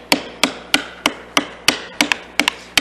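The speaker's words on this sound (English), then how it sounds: "You can see that the bevel is facing up on my 1/4-inch chisel, the one going in from the end grain." A mallet drives a 1/4-inch chisel into wood end grain while cutting dovetail tails by hand, a steady series of about ten sharp, close knocks in an even rhythm with a short pause near the end.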